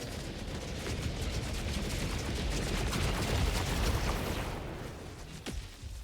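A sentry turret in Helldivers 2 fires a dense, continuous burst of gunfire amid explosions and battle noise, loud and sustained before tapering off near the end.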